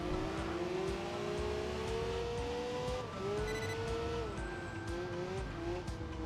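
A Peugeot 406 taxi drives in Enthusia Professional Racing, its engine droning steadily and rising and falling in pitch through gear changes, with faint tire noise, loud and close throughout.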